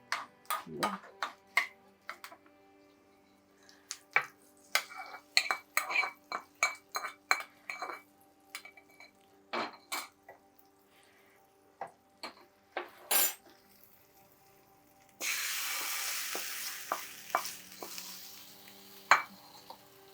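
Cucumber yogurt pachadi, a Nagercoil wedding-style dish, being mixed with tempering in a bowl, with a spoon clinking and tapping against the dish in irregular bursts and a short rushing sizzle-like wash near the end, quiet and close.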